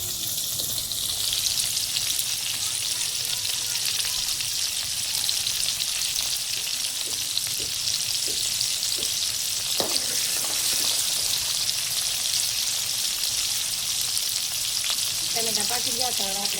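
Tomatoes fry in a pan for a gravy with a steady, even sizzle that carries throughout, joined by scattered soft pops and a brief stirring scrape near the end.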